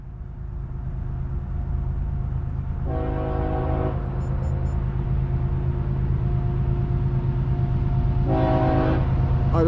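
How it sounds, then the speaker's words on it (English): A CSX or Norfolk Southern freight train rumbles steadily past on the Lehigh Line while its horn sounds two short blasts several seconds apart over the continuous rail noise. "Come on, lay on the horn."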